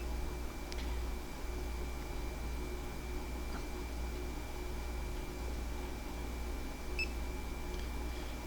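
A CipherLab CPT 8000 handheld barcode data collector gives a single short, faint beep on a scan, set against a quiet, steady electrical hum.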